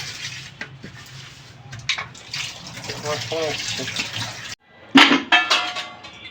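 Water runs from a tap while a container used for packing food is rinsed and cleaned in a home kitchen, a steady splashing stream with brief clatter near the end and a voice talking over parts of it.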